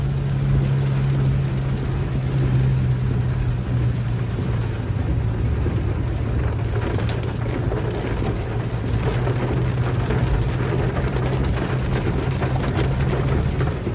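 Steady rain patters on a Honda Brio automatic car driving up a winding slippery hill, the hiss of rain over a low continuous engine and road hum.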